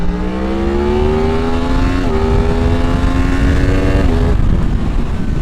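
Yamaha MT-10 motorcycle accelerating hard in second gear on a night ride, a loud close engine note climbing steadily in pitch with brief dips at each surge, continuous throughout with no talk.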